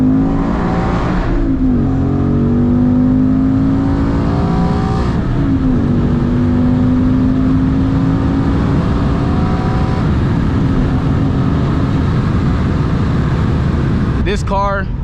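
A manual Ford Mustang GT's V8 revs and downshifts from inside the cabin, with engine pitch sweeping up and down in several loud rises and drops, ending in a brief sharp clatter.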